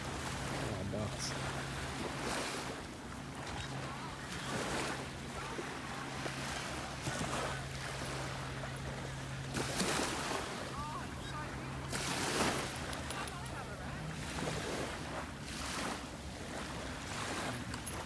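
Ocean waves rolling onto the shore, a soft continuous surf wash with periodic swells and steady wind noise, moderately faint.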